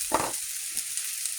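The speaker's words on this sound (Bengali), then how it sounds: "এই পেঁয়াজটা না 20 সেকেন্ড ভাজছি পেঁয়াজটা" Onion fries in a pan for a chicken chow mein, a soft continuous sizzle joined by a couple of brief stirring scrapes, quiet and close, with no speech.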